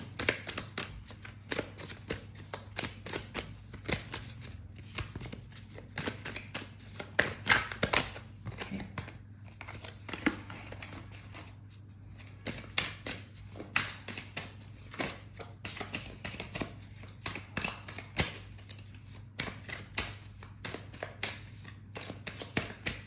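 Tarot cards shuffled over and over nearby, a steady run of crisp papery riffles and taps above a low hum, with no talking.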